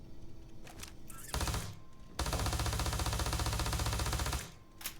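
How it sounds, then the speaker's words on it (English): Rapid automatic gunfire from the Heartbreaker weapon mod in Starfield, one short burst and then a longer sustained rattling stream of shots with an even, fast rhythm, loud and close, fading out at the end. "Let's shoot it, see what it sounds like."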